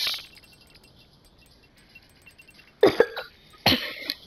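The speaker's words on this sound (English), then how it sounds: "Sorry guys, I'm coughing, I'm kind of sick." A few sharp coughs from a person who is sick, two short bursts close to the microphone after a quiet stretch, with no talking.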